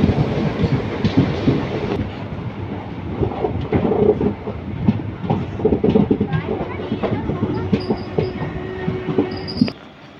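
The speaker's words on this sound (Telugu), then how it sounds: "చెంగల్పట్టు స్టేషన్ నుండి అయితే మన ట్రైన్ అయితే బయలుదేరిపోయింది" The Mannai Express pulls out of Chengalpattu Junction with a continuous close rumble and rhythmic wheel clatter from inside the carriage, and voices come and go underneath.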